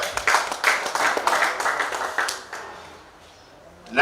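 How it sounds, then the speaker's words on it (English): Clapping rises from the audience at the Nkumba International Research Conference for a presenter who has just finished, brisk and fairly close at first, then thinning out and fading toward the end. "Let's give him a hand clap."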